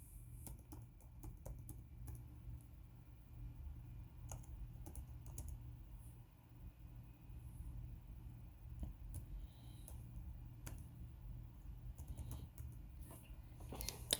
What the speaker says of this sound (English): let me type up the name real quick,